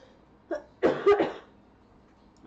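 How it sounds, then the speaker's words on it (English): A person coughs several times in a short cluster, a few raspy bursts close to the microphone, then silence. "the coughing's getting worse."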